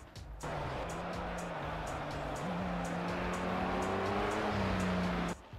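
The Audi R18 TDI diesel race car in a racing video game gives a steady, low engine drone under a constant hiss of tyre and wind noise, with the pitch rising gradually through the gears.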